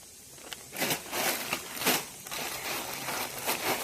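A plastic snack packet of chanachur crinkles and rustles as it is handled, in several close bursts of crackling.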